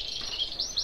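Small contest-bred songbirds chirp softly in a brief, high twittering call against a quiet background.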